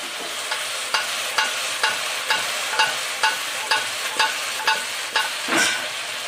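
Moong dal frying in a pan for a kachu stalk dish gives a steady close sizzle, broken by about a dozen evenly spaced scraping stir strokes.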